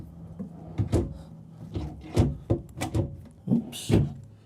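Full pull-out drawers in the bedroom of a 2025 Renegade Valencia 38RB motorhome slide and bump shut several times in a row, with clear thuds and rolling scrapes nearby and no talking.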